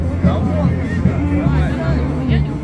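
A crowd gathered on Nevsky Prospect in St Petersburg, a dense murmur of many voices chattering nearby, continuous and fairly loud throughout.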